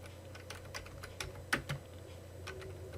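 A search being typed on a computer keyboard, a quick, light, uneven patter of keystrokes recorded close up with no talking.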